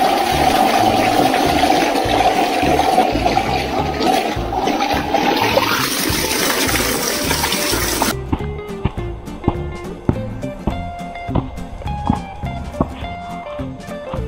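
Water rushes down a large stepped water staircase into a big pond, a loud continuous splashing roar for about eight seconds before the sound changes to quieter, more scattered splashes and rustling.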